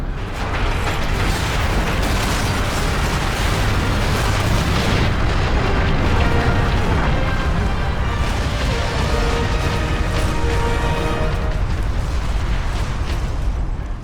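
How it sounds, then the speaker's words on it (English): A fortress detonating in Warhammer 40,000: Space Marine, a continuous loud roar of explosions, rumbling booms and grinding mechanical debris sustained at full intensity throughout. "We'd be better off seeing this fortress detonate from the outside."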